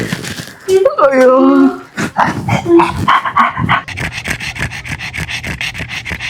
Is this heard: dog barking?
yes